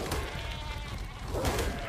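A sheep bleats in ARK, faint and fairly distant, with a short wavering call over a soft ambient game background.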